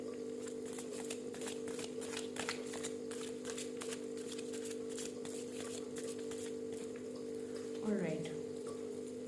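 Playing cards riffled and shuffled repeatedly at a table reading, a steady run of crisp brief flutters over a constant low electrical hum, with one faint voice-like sweep near the end.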